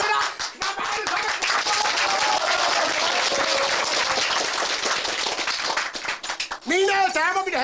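Loud, dense audience applause fills a 1950s boxing hall at a market, with sustained clapping that briefly dips before a voice breaks in at the end.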